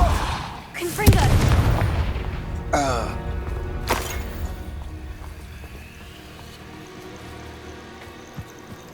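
Confringo fire spell in Hogwarts Legacy: a few sharp booming blasts near the start and middle with crackling debris, decaying into a fading rumble, amid game sound effects.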